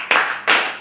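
Two crisp, loud claps in quick succession from a classroom of students clapping in unison to a counted pattern, each with a short fading tail.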